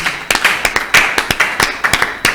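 A congregation clapping in praise at a church service, a steady rhythm of about a dozen sharp, close claps, loud and with no talk over them.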